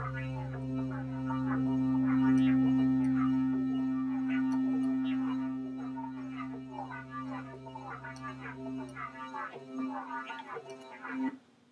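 A Reason 4 Thor synthesizer patch with Malstrom oscillators added, playing sustained droning tones under a rhythmic run of brighter plucked notes; the low drone drops out near the end while the notes continue.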